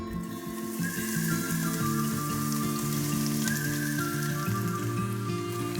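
Onions sizzle steadily in olive oil in a stock pot over medium heat, a continuous crackling hiss under a soft background music bed, with no voices.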